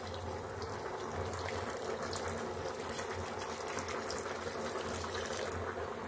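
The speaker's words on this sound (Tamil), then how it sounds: "அப்புறமா இனி நம்ம தண்ணி ஊற்றிக்கலாம், எவ்வளோ தண்ணி வேணும்னு ஊற்றிக்கலாம்" Water poured into a cooking pot while making drumstick (murungai) soup, a steady broadband splashing and trickling that stays even and moderately loud for the whole stretch, with no voices over it.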